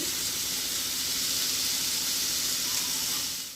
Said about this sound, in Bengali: মাছের ঝোল এই যে মাছ ভেজে রেখেছি ঝোল করছি